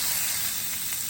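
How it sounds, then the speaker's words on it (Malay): Beef sizzles in a hot wok, a steady bright hiss of frying fat that stays even and close throughout the short stretch, with no talking. "kuali dah panas dah bang, kita boleh goreng."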